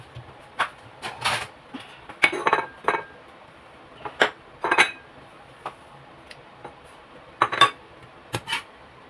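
Cooked spicy eggplant being served onto a plate, with a run of sharp, close clinks and scrapes of a utensil against dishware in irregular bursts, no talking.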